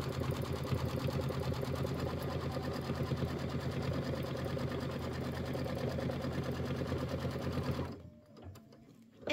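A computerized embroidery machine runs a tack-down stitch on a quilted pillow block, a loud, steady, rapid mechanical chatter close by that keeps going for several seconds, then stops abruptly into near silence.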